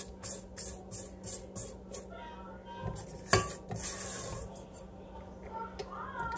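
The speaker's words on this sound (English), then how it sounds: "I'm gonna go ahead and scrape down my bowl again." A spatula scrapes and clinks around a mixing bowl of chocolate biscotti dough, quiet rhythmic scraping with a few sharper metallic knocks near the middle.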